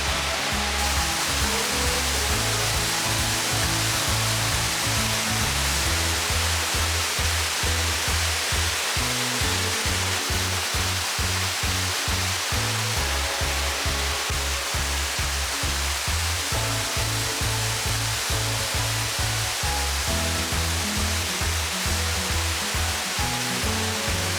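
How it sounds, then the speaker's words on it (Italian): Tuorno waterfall in southern Italy, almost 20 metres high, pours in a steady, loud, broadband roar of crashing water that holds unbroken throughout, with no voices over it. "una cascata alta quasi 20 metri che resterete ad ammirare per molti minuti, cullati dall'incessante rumore dello scrosciare d'acqua"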